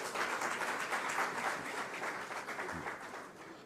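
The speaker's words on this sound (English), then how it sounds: "A round of applause for Nakiat." Round of applause from an audience at a Ghanaian government launch event for the National Schools Inspectorate Authority, a continuous, fairly distant wash of clapping at moderate volume that tapers slightly.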